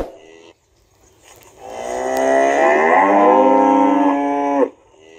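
A Texas Longhorn moos once, a long, loud, drawn-out bellow that swells after a brief quieter lead-in and then cuts off sharply.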